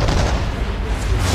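Cannon fire from a naval battle in Assassin's Creed 3, at the Battle of the Chesapeake, heard as a continuous heavy rumble of booms and blasts that stays loud throughout.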